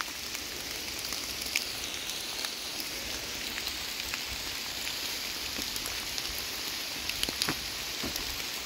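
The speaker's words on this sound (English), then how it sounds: "because the rain keeps coming through" Steady rain falling in a forested gorge, a dense continuous patter with occasional louder drops striking nearby surfaces, no voices.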